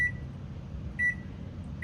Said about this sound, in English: Set our kitchen timer for 10 minutes.